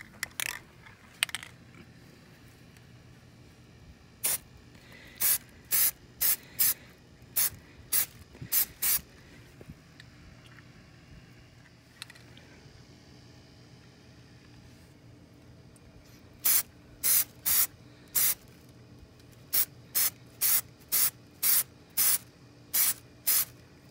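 Plastic dip coating is sprayed onto Nissan 240SX interior parts in short hissing bursts, first as scattered puffs, then a steady run of rhythmic spray blasts, close and clear with no talking.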